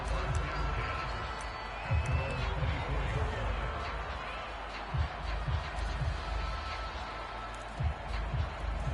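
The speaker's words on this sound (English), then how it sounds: "And the home crowd loves it." Home crowd at an American football game, a broad distant roar of cheering with scattered shouts and brief swells, steady under a commentator's voice.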